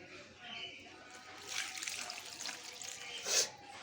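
Water trickling and splashing onto dry, cracked garden soil, a steady close pour rising and falling for a few seconds.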